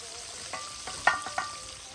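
Chicken cutlets fry in a pan over a wood-fired rocket stove with a soft, steady sizzle, broken by a few sharp clicks and taps of a utensil, close and quiet.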